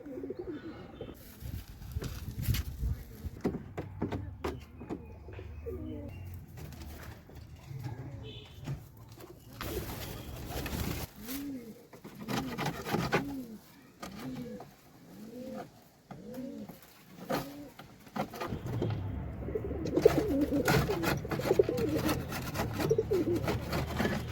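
Local red golla pigeons coo in their coop, a series of soft rounded coos repeating in a steady rhythm near the middle of the stretch, with rustling and scraping around them during coop cleaning.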